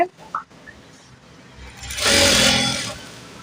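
A sewing machine stitching the outer seam of pants, running steadily for about a second after some quiet handling noises, close and moderately loud with no speech.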